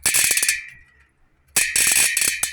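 Loud, rapid ratchet clicking from a freewheeling United BMX cassette hub comes in two bursts separated by a brief quiet pause.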